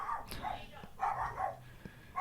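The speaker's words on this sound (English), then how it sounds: "Dogs." A dog barks a few times in the background, short yips and woofs spread across a couple of seconds, partly under a person talking nearby.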